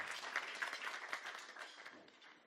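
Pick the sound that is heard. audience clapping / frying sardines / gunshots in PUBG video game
audience clapping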